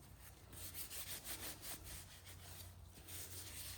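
A diesel-soaked rag scrubs grime off a work glove in a series of quick, faint, close rubbing strokes. The swishes come rhythmically with no talking.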